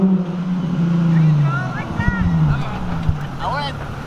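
An RB25-powered Nissan 240SX coupe drifts nearby, its engine rising and falling in revs under excited talking, with a few sharp bursts and squeals toward the end.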